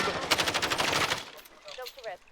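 Rapid automatic gunfire rattles in a fast burst in the Call of Duty Warzone video game, loud and close, then breaks off into scattered quieter shots and game sounds.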